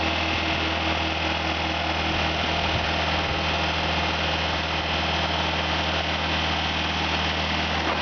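A forklift engine runs steadily while the mast lift raises and lowers, a smooth constant hum with low vibration and no break in level throughout.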